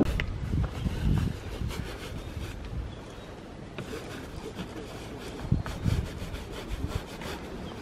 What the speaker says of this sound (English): We just sprayed alcohol on the bottoms of our shoes and then used those little brushes to clean them off